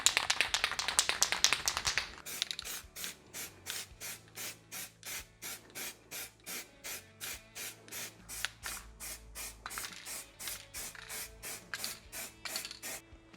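A rattle can sprays a light tack coat of paint onto a Suzuki Intruder VS1400 motorcycle engine. A long hissing burst is followed by a steady run of short, evenly spaced spray pulses, close up with no voices.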